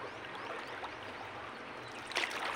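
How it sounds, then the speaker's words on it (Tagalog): Strong current of the flooded Agusan River, a continuous rushing, trickling water wash heard from nearby, steady and fairly soft, with a short brighter splash near the end. "Yung medyo parang malakas yung alon."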